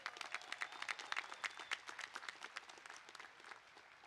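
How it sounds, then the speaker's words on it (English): Graduates at a Cal Poly College of Engineering commencement in packed stands applaud themselves, a dense, even wash of many hands clapping at a distance, steady and moderate before slowly thinning. "So please give yourselves a round of applause"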